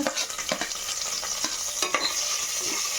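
Onions frying in a pan for spinach-fenugreek pulao are stirred, a steady hiss of sizzling with repeated scraping strokes of a spoon against the pan, close and continuous with no voices.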